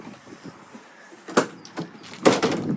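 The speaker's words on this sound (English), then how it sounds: "You'll notice we do have a Truckman cover on the rear just here, which I'll open up for you now" The rear Truckman cover on a Ford Ranger Wildtrak 3.2 pickup being opened: a few short scraping clunks and latch rattles, the loudest two near the middle and end, close by with no talking.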